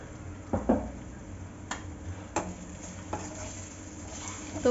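Garam masala and coriander powder are stirred in hot oil in a pan, with a soft steady sizzle under a few scraping spoon strokes and light clinks against the pan, heard up close.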